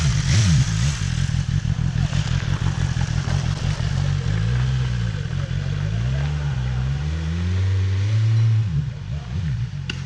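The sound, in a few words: Honda motorcycle engine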